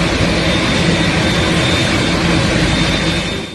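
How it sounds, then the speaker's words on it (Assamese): An Air India special flight jet lands at Delhi with a loud, continuous broadband engine roar that holds steady throughout and eases off slightly at the very end. "দিল্লীত অৱতৰণ কৰিলে কিয়েভৰ পৰা 2 শতাধিক ভাৰতীয়ক লৈ উৰা মৰা এয়াৰ ইণ্ডিয়াৰ বিশেষ বিমানখনে"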